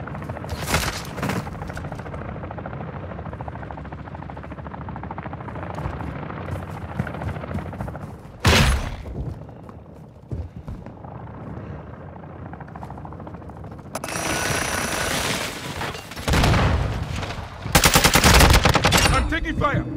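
Call of Duty multiplayer gunfire, with bursts of automatic fire, single shots and explosive booms over a droning helicopter, loud and close, with brief game voice callouts.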